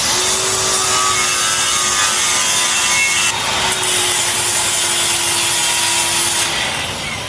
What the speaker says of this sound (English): I just use a grinder.